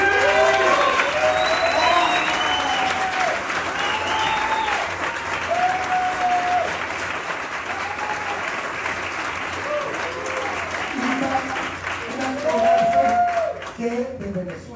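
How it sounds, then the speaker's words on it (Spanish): Theatre audience applauding an actor at a premiere in Mexico, steady sustained clapping throughout with cheers and voices mixed in, swelling again near the end. "Y quiero pedir un aplauso muy grande para Manuel Balbi."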